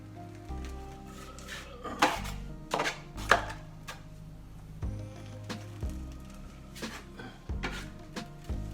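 Drywall knife smoothing green-top joint compound over a wall repair, with repeated scraping strokes and sharp taps in an uneven rhythm, close and fairly quiet.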